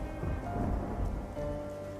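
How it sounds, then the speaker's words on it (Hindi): Steady rain falls with a low rumble of thunder underneath, a dense continuous wash with no voices. "ये बारिश का सिलसिला यूं ही कुछ दिन तक जारी रहता है।"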